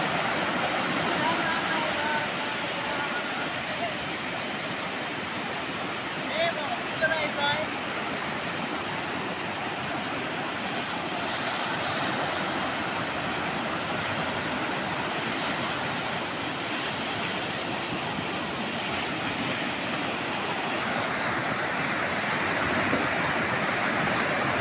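Sea waves washing onto Guhagar beach, a constant broad roar of surf close by that fills the scene evenly throughout, with faint voices mixed in.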